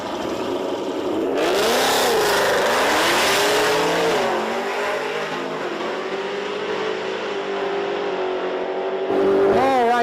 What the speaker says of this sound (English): next pair pulling up here in a Modern Muscle. I think we got a Camaro and Mustang